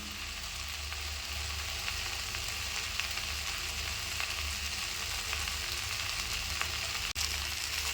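Vallarai (Centella) greens sautéing in a pan for pickle, a steady soft sizzle holding evenly throughout with faint low rumble beneath and one brief click near the end, no talking.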